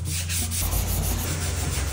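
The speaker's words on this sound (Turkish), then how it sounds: "Çok güzel zımpara yapıyorsun" Sandpaper rubbed by hand over a car's rear fender gives a steady close scraping hiss, strokes running almost without pause and no talking.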